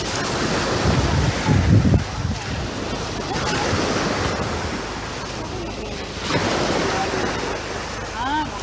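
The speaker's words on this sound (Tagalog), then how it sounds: "Ayan po yung alon." Ocean waves wash onto Sealine Beach amid gusty wind buffeting the microphone, a continuous broad surf roar that swells and eases, with a person speaking faintly at times.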